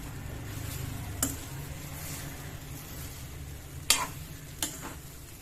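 Bread poha with peanut powder stirred in a pan over a faint sizzle, with three sharp clicks of a spoon striking the pan spaced across a few seconds.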